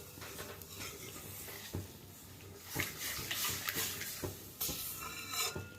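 Milk and water slowly stirred into a pan while making sheera, with a spoon scraping and clinking against the pan in uneven strokes and a soft sizzle underneath.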